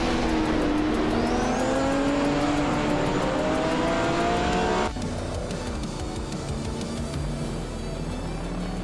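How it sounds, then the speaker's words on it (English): A 1977 Lancia Stratos Turbo rally car races in a video game, its engine revving loud and close with rising and falling pitch, then settling into a steadier drone with a rattling texture. "driving a 1977 Lancia Stratos Turbo, a classic rally legend"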